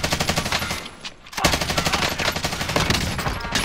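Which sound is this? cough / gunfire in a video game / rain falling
gunfire in a video game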